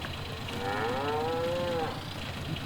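Cattle in Farming Simulator 19 give one long, drawn-out moo that rises and falls in pitch, standing alone over a quiet farmyard background hum.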